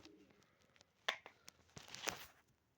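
Soft, low cooing of pigeons with a few scattered clicks and rustles, quiet and fairly close, no talking.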